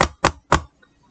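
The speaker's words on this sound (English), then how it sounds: "He knocked at the door." Three sharp knocks on a door come in a steady, evenly spaced rhythm, close and loud, followed by silence.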